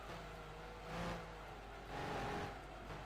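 Engine of a hard-to-handle race car in Gran Turismo 2 drones steadily with an aggressive tone, swelling in two revving surges, loud and continuous with no voices.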